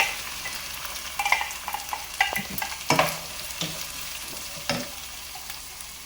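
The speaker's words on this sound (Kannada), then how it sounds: "ಈರುಳ್ಳಿ ಹಾಕೋತೀನಿ." Onions for a simple tomato fry sizzle steadily in a pan, a constant close hiss with a few scattered scrapes and taps of a spatula, no voices.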